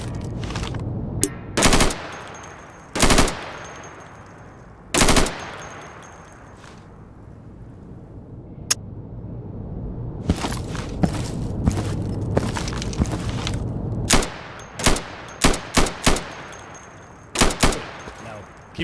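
Light machine gun bursts in the tactical shooter Insurgency, loud, sharp volleys of repeated shots in several clusters, with gaps of quieter background rumble between them.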